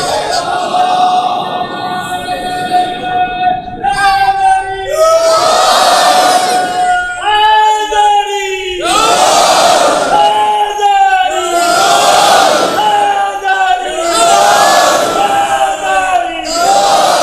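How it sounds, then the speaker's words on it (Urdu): A large crowd at a live Shia majlis loudly recites salawat in unison, a sustained chanted roar rising and falling in repeated waves, with a lead voice holding a drawn-out tone over the mass of voices. "بلند تر صلوات پڑھیں گے۔"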